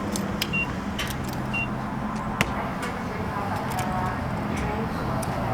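An old, rattly Dodge Charger driven hard down a gravel road gives a steady, close cabin roar of engine and tyre noise, with scattered light ticks and one sharp knock.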